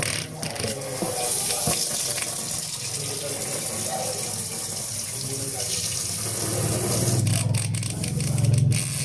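Water pours steadily from a tap, a continuous close splashing rush that lasts the whole stretch, with faint background voices and a few clinks beneath it.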